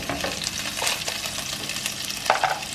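Butter sizzles in a hot pan at the start of a Turkish pilaf, a close, continuous crackling fry with occasional light stirring clicks and no voices.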